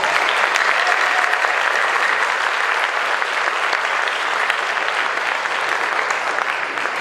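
An audience applauds a high school band at a spring concert, a steady, dense clapping that fills the hall without break from start to finish.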